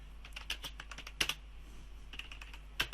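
Typing on a computer keyboard at a Linux terminal makes a steady run of light, quick clicks with a few sharper key strikes, close and fairly quiet.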